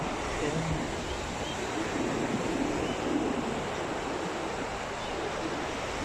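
Continuous roar of surf and wind, a dense wash of crashing waves with steady wind noise on the microphone, no pauses.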